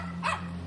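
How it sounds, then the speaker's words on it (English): A small dog wearing a very tight harness gives a single sharp bark during an animal-rescue call in Houston, standing out briefly over a steady low background hum. "A small dog runs round."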